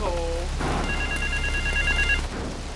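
An electronic phone rings in a steady repeating trill, alongside brief voice-like sounds and a low background hum, in the video game GTA 3 on mobile.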